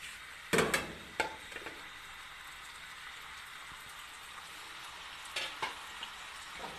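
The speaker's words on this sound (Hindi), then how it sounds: "इसको हम तेज आंच पे फ्राई करेंगे।" Chicken pieces for a jalfrezi frying in a pan over high heat, a steady soft sizzle with a few sharp crackles and stirring clatters near the start and again toward the end.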